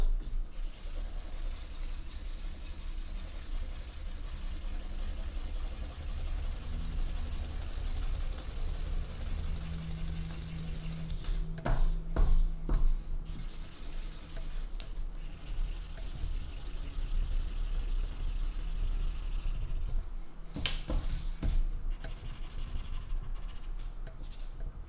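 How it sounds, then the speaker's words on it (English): A red marker scratches and rubs across paper in steady, faint strokes, with a few louder scribbling bursts along the way. "Come on, red marker. Stick with me."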